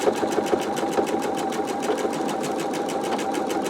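A computerized embroidery machine stitches a quilt held in a magnetic hoop, its needle hammering in a fast, steady rhythm at close range with a constant mechanical hum and no pauses.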